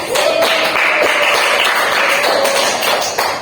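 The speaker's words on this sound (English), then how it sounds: "give a round of applause for your friends" Classroom applause for students, a loud, close, continuous burst of many hands clapping that holds steady for several seconds with no talk over it.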